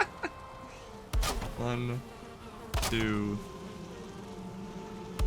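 Bees buzz at an apiary in the video game Valheim, a low steady drone with a few louder buzzy swells, while a person talks over it.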